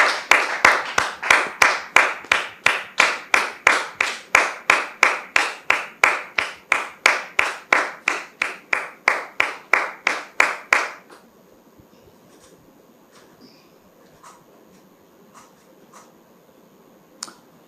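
Audience clapping in a steady, even unison rhythm for about eleven seconds to welcome a guest, M. Oulaye, onto a television talk show set, then stopping abruptly, leaving faint room noise.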